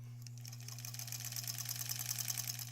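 A sewing machine quilts fabric on a granny squares quilt, running in a fast continuous close stitching rattle over a steady motor hum, with no talking.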